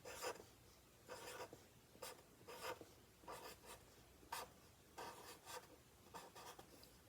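Pen strokes on a paper donut-shaped page of a children's non-fiction reader, faint and close, with short scratchy bursts coming in an irregular rhythm and no talking.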